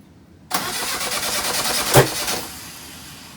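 A Jeep CJ2A engine cranking and catching after a backfire: a sudden burst of rapid starter churning, a sharp pop near the middle, then the engine briefly running before fading, loud and close.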